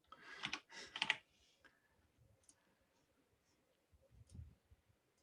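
A burst of computer keyboard typing, clustered keystrokes loud at the start, then a long pause with faint scattered ticks and a short softer patter near the end.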